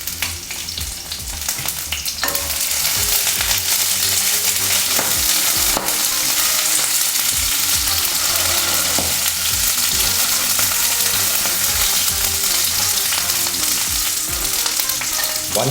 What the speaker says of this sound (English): Saute over low heat.